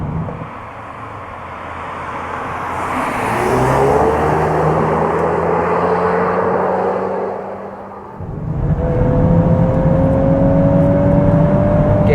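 A Volkswagen Golf R engine revs loudly and holds, dips briefly, then surges again with a rough, throaty exhaust note and small exhaust pops.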